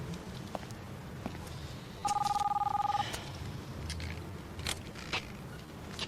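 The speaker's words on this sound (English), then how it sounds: "Phone's ringing." A telephone rings indoors during a tense murder-mystery drama scene, one warbling two-tone burst lasting about a second, clear and close over a low room hum.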